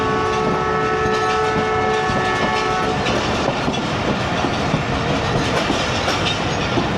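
From the last coach of a train on the Shahdara to Narowal branch line rounding a curve, a long horn sounds for about three seconds, then loud steady wheel rumble and clatter continue alone.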